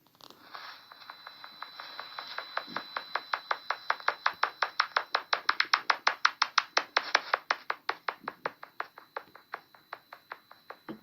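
Bat echolocation calls, slowed to be audible, form a long train of rapid dry clicks that swell from faint to loud and fade again, the rhythm uneven and loping, with no voices.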